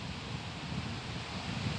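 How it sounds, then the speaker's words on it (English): Strong wind gusts across an outdoor spot, a steady rushing roar buffeting the microphone with a low rumble, no voices, brief and fairly faint. "oh my gosh, this is windy."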